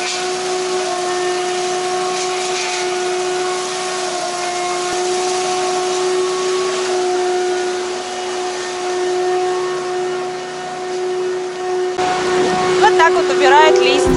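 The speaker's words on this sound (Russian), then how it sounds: "Уличный пылесос убирает листья пылесосом." A street vacuum cleaner sucks up leaves in a city-centre park in Poltava, Ukraine, a steady whining motor drone with a strong tonal hum, close and continuous, growing rougher near the end.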